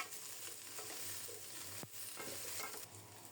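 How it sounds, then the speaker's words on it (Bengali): Sponge gourd, snake gourd, ridge gourd and pointed gourd fry together in oil with a continuous close sizzle, broken by a few sharp stirring clinks and scrapes. "করলা ভাজা উঠিয়ে ওই তেলেই ধুন্দুল, চিচিঙ্গা, ঝিঙ্গে, পটল একসাথে ভেজে নেব।"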